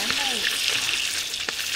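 Food fries in hot oil at a seaside camp cookout, a steady close sizzle and crackle filling the short moment with a faint voice briefly underneath.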